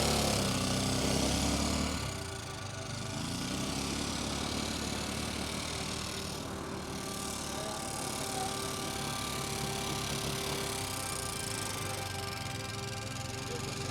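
A motorbike engine runs on Kashid beach near Alibag, a steady, fairly loud drone that continues unbroken from start to finish with no voices.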